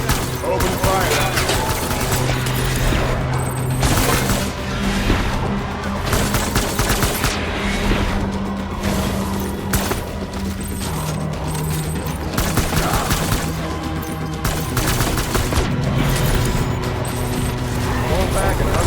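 Gunfire in the video game Death Stranding crackles in repeated bursts and volleys, with booming impacts and mechanical clatter, while game characters shout orders over the shooting.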